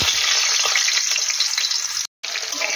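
Potatoes fry in oil with a bright, steady close-up sizzle that fills the clip, cut by a brief complete dropout near the end before the hiss resumes.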